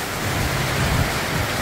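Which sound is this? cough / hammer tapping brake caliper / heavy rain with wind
heavy rain with wind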